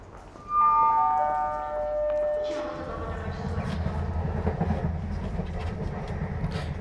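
A train ride of about two hours from Poznań, opening with a loud descending chime or horn-like tone, then settling into a steady low rumble of the moving carriage with faint rhythmic clicks underneath.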